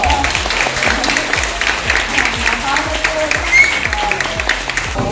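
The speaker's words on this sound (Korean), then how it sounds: "여러분 큰 박수 부탁드립니다" Audience applause fills a Korean keto-school broadcast event as a guest is thanked, steady and dense for the whole stretch, with a low rhythmic thumping underneath and voices mixed in.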